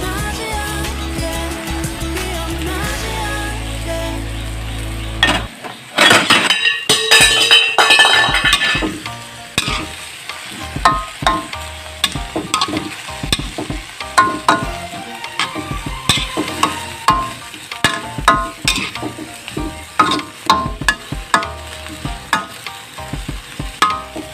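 Beef stir-fried with shallots, holy basil and kaffir lime leaves in a pan, a steady loud sizzle that breaks into rapid clinks and scrapes of a utensil stirring against the pan.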